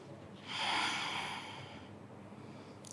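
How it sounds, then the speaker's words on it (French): A single long, audible exhale during a hip-opening yoga pose in a Vinyasa flow, rising softly then trailing off over about a second and a half, close and quiet, with no talking. "Et on va respirer ici."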